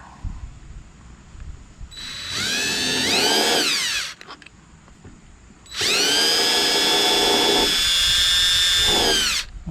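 Power drill boring a pilot hole through a homemade transducer mount on a boat stern, two loud sustained whining runs with rising pitch, separated by a pause.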